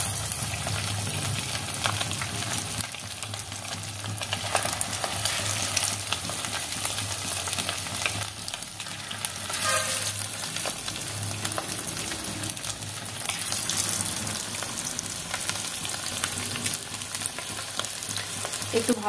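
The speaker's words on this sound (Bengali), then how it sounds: "আমি এবার এক এক করে এগুলোকে ভেজে নেব" Chicken pakoras fry in hot oil, a dense, steady sizzle and bubbling that stays loud and close for the whole stretch, with no voices over it.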